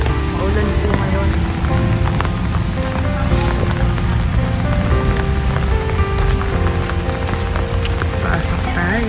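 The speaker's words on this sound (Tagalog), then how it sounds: "Maulan po ngayon." Steady, close rain falls on a surface throughout, a dense continuous patter with a few louder drops, alone without talk.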